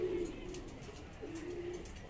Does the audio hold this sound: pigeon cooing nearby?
yes